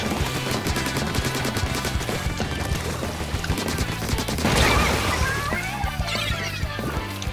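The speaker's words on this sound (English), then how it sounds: "How big is that Rainmaker explosion?" A Rainmaker explosion in the Splatoon video game bursts amid dense, busy gameplay noise, with rapid ink-fire bursts and splashes throughout and a louder swell near the middle, while a player's voice is faintly audible.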